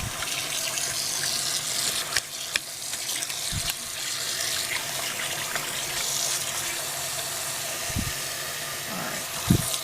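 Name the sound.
wool rinsed under running faucet water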